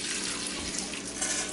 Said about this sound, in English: to this bowl I'm going to add 2 cups of water